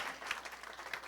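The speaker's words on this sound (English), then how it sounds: "let's save the biggest round of applause for Carla Damian" Faint, distant applause rises from an audience at a transportation awards ceremony, a brief soft patter of many hands in a large room.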